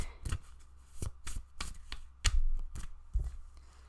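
A deck of tarot cards is shuffled close by, giving a run of crisp riffling flicks and soft slaps in an uneven rhythm with no voices.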